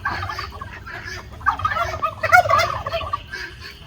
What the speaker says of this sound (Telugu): అదో కోళ్ళు వినబడుతున్నాయా?